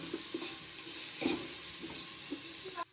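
Ginger garlic paste sizzles with fried onions in a home kitchen pan, a steady close frying hiss broken by a few soft stirring scrapes, with no talking.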